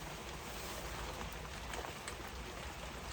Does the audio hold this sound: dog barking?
no